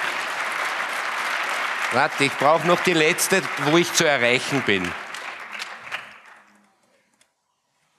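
Conference applause at the 31c3 hacker congress greets the Austrian presenters. It starts as a full burst of clapping, then continues beneath a man's speech and dwindles to silence.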